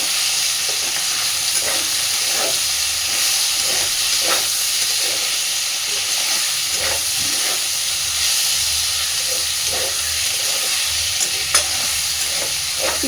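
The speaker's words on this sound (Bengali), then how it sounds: "পেঁয়াজটা দেওয়ার পরে বেশ একটু স্বচ্ছ করে ভেজে নিয়েছি।" Chopped onions fry in hot oil in a pan for prawn chorchori, giving a steady, close sizzle with soft scraping stirs at a slow, regular rhythm and no talking.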